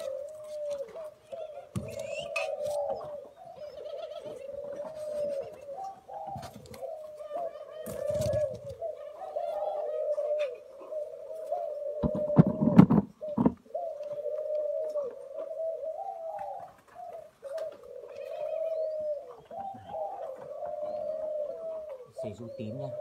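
Pigeons coo steadily in low, rolling calls through the whole stretch. People talk nearby and a few sharp handling knocks break in, close and moderately loud.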